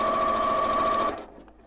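A sewing machine runs steadily while stitching quilt rows together for a Carpenter Star quilt top, a close, even whir that stops abruptly near the end, leaving a faint quiet tail.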